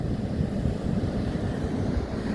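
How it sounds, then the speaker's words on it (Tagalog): Strong wind rumbling across the microphone at a beach, with choppy waves churning steadily underneath, a constant, dense roar throughout and no other clear sounds. "Kaso nga lang, maalon dahil mahangin."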